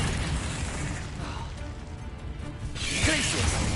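Confringo fire spell cast in the Hogwarts Legacy video game, a dense, loud burst of crackling blast and rumble that swells near the end, with game combat noise running throughout.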